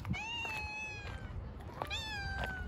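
A tabby cat meows several times with drawn-out, rising cries, close and fairly loud over a low background rumble.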